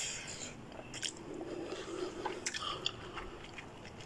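Thin Samyang Buldak light spicy stir-fried noodles are chewed close to the mic, with soft wet slurps, squishes and small crunchy bites over several seconds and no talking.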